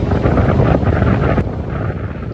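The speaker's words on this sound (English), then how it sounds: "A little windy up there in that tower." Wind buffets a microphone high up in a tower, a steady, loud, rumbling low-end roar that eases slightly toward the end, with no voices.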